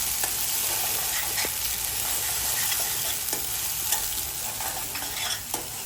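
Dal tadka mixture fries hard over a high flame, a steady broadband sizzle with occasional spoon scrapes and small pops throughout, close and loud with no talking.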